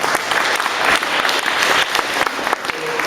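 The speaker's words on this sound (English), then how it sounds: "Now you get the applause, right?" Sustained applause from an audience at a public meeting in Leith, steady dense clapping filling the whole stretch at close range with no talk over it.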